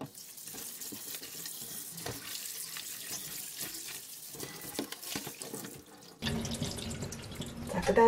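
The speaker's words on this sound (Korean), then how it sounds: "좀 찝찝한 부분이 있으면 이렇게 깨끗하게 다 씻어줍니다." Boneless chicken feet being rinsed under a running kitchen tap, a steady close stream of water splashing over the meat in a sink, growing louder and fuller near the end; no talk.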